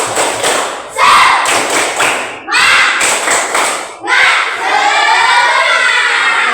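A school class does the tepuk semangat chant: loud rhythmic group clapping in repeated bursts of claps separated by short pauses, with children's voices chanting along between and over the claps.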